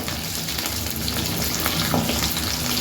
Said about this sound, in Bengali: মশলা মাখানো ডিমগুলো আমি ফ্রাই করছি।